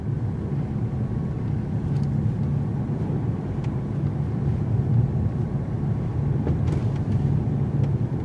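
A 2016/2017 Jaguar XJL being driven around a turning circle gives a steady, continuous low engine and road rumble throughout, with no talking.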